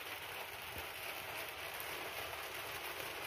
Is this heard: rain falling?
yes